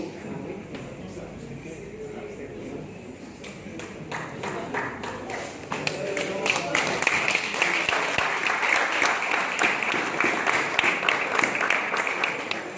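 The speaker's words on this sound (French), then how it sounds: "C'est l'une des rares fois que des gens applaudissent quand je leur dis qu'on est en train de les avoir." Seminar audience applauding in a room, scattered clapping at first that swells into dense, sustained applause halfway through, with some talk underneath.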